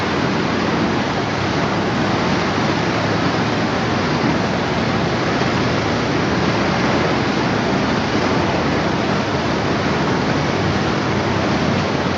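Irrigation canal water on the Krueng Teupin Mane in Bireuen, Aceh, rushing in a steady, loud broadband roar that stays unchanged from start to finish, with no voices.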